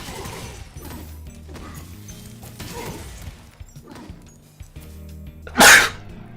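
A single sharp sneeze bursts out loudly near the end, following a stretch of quiet background hum with soft rhythmic noises.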